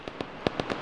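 Rapid gunfire in a PC military video game, six quick sharp reports evenly spaced across under a second, fairly close and alone.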